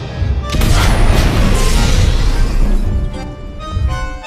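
Loud, dense explosion rumble in a film scene, a sustained roaring blast with crackling debris that swells and fades over several seconds, no voices.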